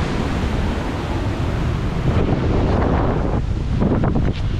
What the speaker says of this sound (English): Wow, that's some heavy rain.